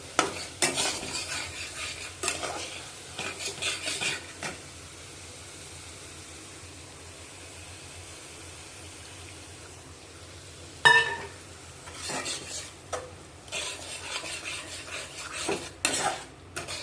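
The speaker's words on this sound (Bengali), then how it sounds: "মশলাগুলো কষিয়ে নেব।" Spices stir-fried in a pan on a stove, a soft sizzle running throughout while a utensil scrapes and clinks against the pan in repeated bursts, close and fairly quiet.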